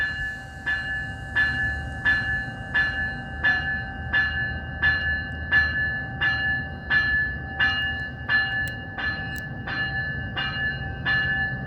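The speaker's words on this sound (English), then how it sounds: "Alright, Via 59's now ready to go." VIA Rail passenger train 59 pulling out of Cobourg station in Ontario at night, heard as a steady rhythmic clatter of wheels over rail joints with a sustained bell-like ringing tone throughout.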